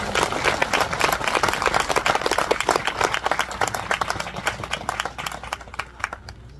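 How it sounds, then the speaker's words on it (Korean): Crowd applause for a head monk at a peace festival at a mountain temple, dense steady clapping from many hands that fades slightly toward the end. "우리 임당 큰스님께 박수 한번 보내주십시오."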